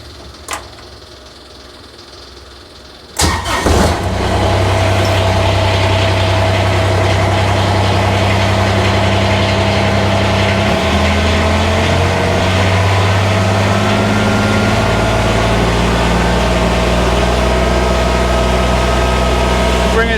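A Kubota BX23S tractor engine cranks briefly, catches and settles into a steady, loud diesel idle with a deep rumble and slight pitch shifts, continuing close by to the end.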